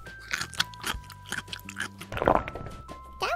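Several crisp crunches of someone biting and chewing a raw carrot, close up, with music playing underneath.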